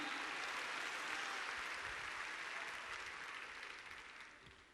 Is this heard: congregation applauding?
yes